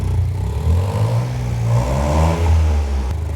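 A Vauxhall Corsa engine with a big bore exhaust revs up and down close by, a throaty rumble with a slight rattly clatter throughout.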